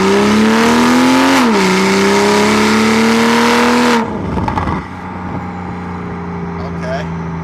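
A BMW M340i with its B58 engine pulls hard from the driver's seat, a loud rising drone that revs up, dips as it shifts, then drops away to a quieter cabin hum with road noise.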